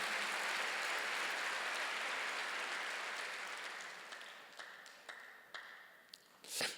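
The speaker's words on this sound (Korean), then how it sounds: "박수로 나와주세요." Applause from a church congregation during a sermon at a Korean church, broad and sustained, filling the space before gradually thinning into scattered claps and a final burst.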